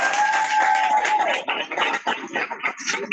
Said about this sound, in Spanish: Otro aplauso a Luz.